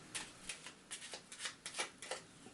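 Playing cards are shuffled back into the talent deck during an Eldritch Horror board game, giving a quick series of soft riffling bursts, close and quiet.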